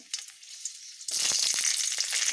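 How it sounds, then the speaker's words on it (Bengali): Dry and ripe chillies drop into hot oil in a kadai, a sudden loud sizzle bursting after a quieter stretch of faint crackle and then holding steady, close up with no voices. "শুকনো লঙ্কা ও পাকা লঙ্কাগুলো ফোড়ন দিয়ে নেব"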